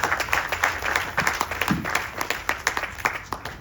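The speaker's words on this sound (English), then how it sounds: "Please give them a round of applause." An audience gives a sustained round of applause to a kirtan group of musicians at a Ganesh Chaturthi utsav gathering, with dense, steady clapping running throughout and a few louder individual claps standing out.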